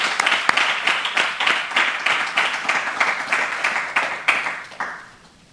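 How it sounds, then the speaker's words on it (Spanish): Audience applause at the close of a conference on Ironman racing in Albacete: a dense burst of many hands clapping that holds steady for several seconds, then thins and fades out toward the end. "te vamos a dar un aplauso muy grande"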